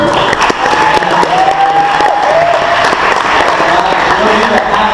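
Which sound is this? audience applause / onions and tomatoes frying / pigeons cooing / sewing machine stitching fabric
audience applause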